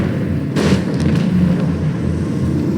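Macro cannons fire in the Rogue Trader game, a loud booming blast followed by a couple of weaker thuds, all over a heavy, rumbling low-end background.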